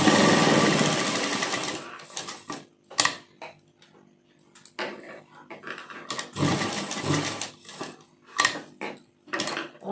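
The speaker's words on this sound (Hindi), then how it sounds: "तो अब पहले हम यहाँ पर कोने पर सफाई से सिलाई लगाएंगे, जो हमने इसके कॉर्नर बनाए हैं कॉलर के।" A sewing machine stitches the corner of a lace collar on a kurti, running in a loud opening burst and then in short stop-start runs with quiet pauses between.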